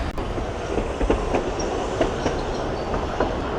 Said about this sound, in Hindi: ये पुरानी वाली ट्रैम